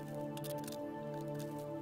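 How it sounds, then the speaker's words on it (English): Fibreglass mould pieces are scrubbed in soapy water, a steady close squishing and sloshing with soft wet patters and drips throughout, with no voices. "I'll just wash the mould pieces with soapy water."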